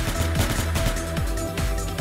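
Video game gunfire crackles in dense, rapid bursts of overlapping shots, loud and close, with no talking over it.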